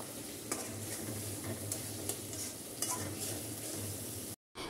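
Tomato frying with spices in a pan produces a continuous close sizzle with soft stirring scrapes and a few sharper pops, cutting off abruptly near the end.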